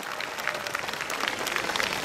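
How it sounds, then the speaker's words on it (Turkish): A festival audience at a Circassian culture festival in Uzunyayla claps steadily, a dense crackle of many hands with scattered sharper claps, close and sustained without pause. "Kendilerine bir kuvvetli alkış verelim."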